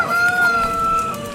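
Chickens clucking and crowing in the farming game Force of Nature, a close, continuous squawking call with steady tones holding through the short stretch, no talk over it.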